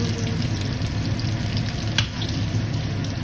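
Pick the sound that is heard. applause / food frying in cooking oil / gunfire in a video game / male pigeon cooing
food frying in cooking oil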